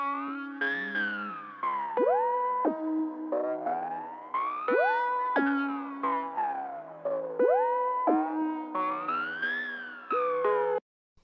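A bright synth arpeggio from the Electra X synth plays repeating gliding, siren-like note patterns in a steady cycle, then cuts off abruptly at the end.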